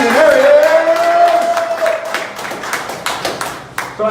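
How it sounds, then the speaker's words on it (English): Audience applause at a marketing bootcamp for the hype man, close and loud rapid clapping that starts strong and gradually tapers into scattered claps, with a voice calling out at the start. "Can we give a big, big round of applause to my hype man right here?"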